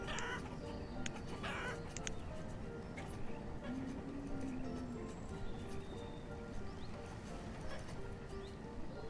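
Chickens clucking in the village-building game Banished, quiet intermittent fowl clucks and a brief squawk over a low ambient game soundscape with faint hoof-like clopping, soft and distant.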